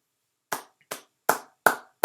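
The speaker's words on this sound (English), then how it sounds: "we clap you out" Single hand claps ring out one at a time, five sharp isolated slaps spaced about half a second apart in a slow, deliberate rhythm, each with a short decay and no talking around them.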